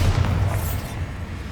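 Bombarda explosion spell going off in Hogwarts Legacy: one deep, close boom with a crackling burst, then a rumbling decay and a faint secondary thump, loud and alone.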